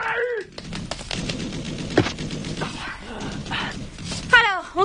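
Gunshots in a French animated action series come as sharp bangs amid busy cartoon sound effects and a yapping dog, with voices heard briefly at the start and end.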